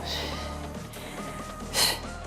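A single forceful breath out, close and short, comes during a squat-style toning exercise that works the abs, hips and thighs, over a soft steady background.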